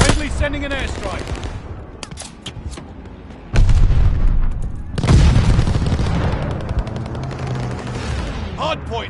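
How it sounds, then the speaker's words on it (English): Video game combat with an airstrike and glide bomb explosions: heavy booms burst in loudly partway through, followed by sustained rumbling blasts and rapid gunfire, with voices calling out over the din. "Friendly sending an airstrike!"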